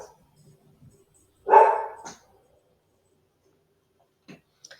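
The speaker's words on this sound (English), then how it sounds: "thought I heard a dog" One short dog bark sounds at a moderate distance in an otherwise quiet space, followed by a few faint clicks.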